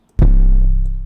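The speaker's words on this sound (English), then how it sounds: "I used a lot of trap sounds like this 808" A single deep 808 bass hit from a trap beat booms in and sustains with a long, slowly fading low tone, loud and alone.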